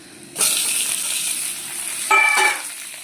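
Loud sizzling as tomatoes hit hot oil with garlic starts abruptly, then a second burst of frying and stirring flares up near the end.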